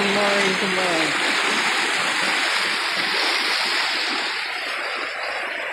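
Steady rushing of a river stream in a creek, loud and continuous broadband water noise throughout, with a brief tonal hum near the start.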